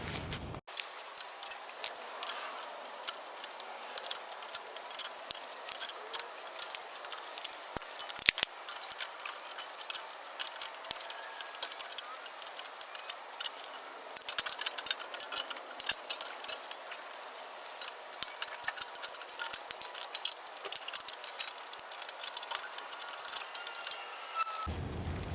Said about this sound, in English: This is gonna be really, really easy with tin snips.